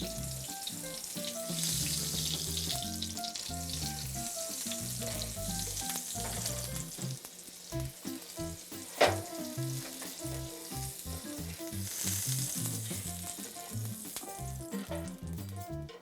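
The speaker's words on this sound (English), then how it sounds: "we're gonna add some oil. It keeps our butter from burning. And get the griddle nice and hot." Butter and oil sizzle steadily on a hot griddle before French toast goes on, a continuous fry noise running beneath background music, with one sharp clatter midway.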